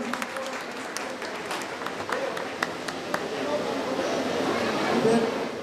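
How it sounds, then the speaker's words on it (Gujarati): Wedding audience at a mass community wedding clapping, a dense steady applause with sharp individual claps at first, swelling slightly louder toward the end, heard at a moderate distance. "જોરદાર તાળીથી આપણે એમને વધાવીએ"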